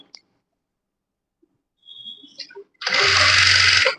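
A sewing machine stitches the neckline of a lined blouse, starting after near-silence and a few soft clicks, then running as one loud, steady burst of a little over a second.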